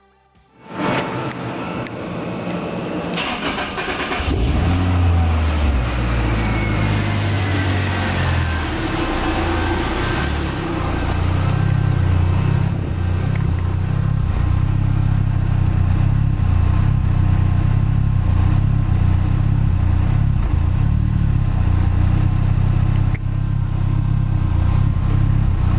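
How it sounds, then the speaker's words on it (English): A Lotus Elise engine fresh from an oil change starts after a brief crank, revs up, then holds a steady, close mid-pitched idle for over twenty seconds with no talking. "let's go ahead and do a nice little start and see if we get any oil leaks."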